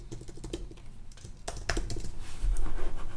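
Rapid keyboard typing as test card details are entered, a close stream of quick key clicks that grows denser and louder toward the end, no talking.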